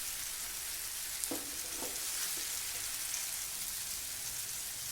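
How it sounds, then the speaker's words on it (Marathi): Chicken tandoori pieces pan-roasting in a small amount of oil and ghee give a steady, even sizzle throughout, with a few faint knocks as the pan is moved. "अगदी कमी तेल तूप घालून हे भाजत आहोत"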